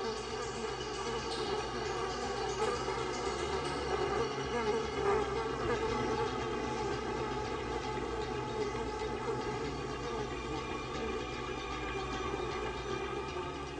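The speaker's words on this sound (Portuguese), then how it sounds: "Uma vez bem longe da velha colmeia, o enxame pousa para se reagrupar" A honeybee swarm settled in a garden after leaving its old hive gives off a steady, dense buzzing hum that stays even and moderately loud throughout, with no voices.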